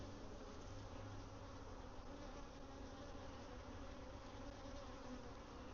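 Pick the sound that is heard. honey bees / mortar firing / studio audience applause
honey bees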